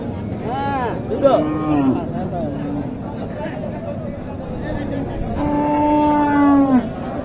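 A cow at a busy cattle market in Naogaon lows twice, a short moo and then a longer, drawn-out one. Both are loud and close, with people talking and crowd noise around.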